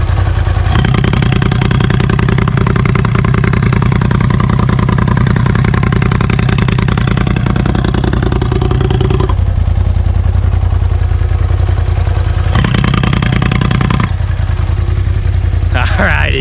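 Polaris RZR Pro XP fitted with an RPM Powersports titanium 3-inch exhaust, with a deep, loud, close idle and throttle blips and revs, the engine note shifting in steps.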